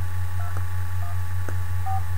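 Three short keypad beeps from an iPhone dialer sound at an even pace, each a brief touch-tone blip over a steady low hum, with no speech.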